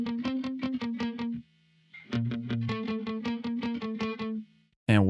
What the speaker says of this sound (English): So this is the dry guitar.